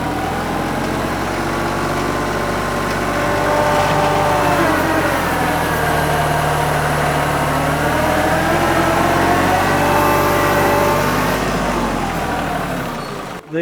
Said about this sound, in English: I'm gonna put it in low and 4-wheel drive.